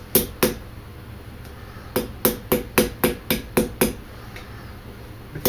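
Hammer tapping to close a fitting on a traditional longbow arrow: two sharp strikes, a pause, then a quick run of about ten close, crisp taps, each ringing slightly, with no talk.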